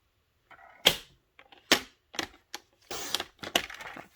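Paper sheet cut with a paper cutter or scissors, heard as about half a dozen crisp, close snips and crunches spread in quick, irregular succession, with short pauses between them and no talking.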